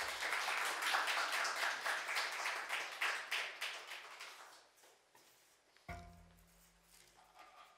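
A church congregation claps at an early-morning New Year service to welcome a pastor, sustained applause fading out over several seconds before a voice begins speaking.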